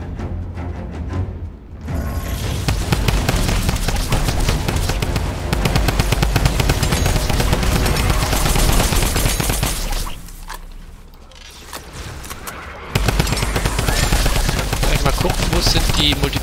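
Rapid gunfire from a tactical shotgun in Fortnite during a monster horde mode, dense repeated shots in two long loud bursts with a short quieter break between them.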